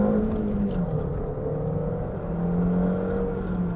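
A Mk1 Audi TT's turbocharged engine hums steadily from inside the car, its drone rising and dipping gently as the driver comes on and off boost at low revs.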